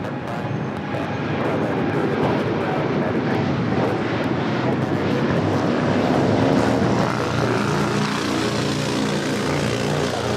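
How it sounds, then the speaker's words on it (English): A brand-new United Boeing 787-9 Dreamliner jet rolls at Los Angeles airport, giving a loud, steady engine roar that holds for the whole stretch with a slight swell midway and no talk over it. "We have a 2-month-old United Dreamliner rolling"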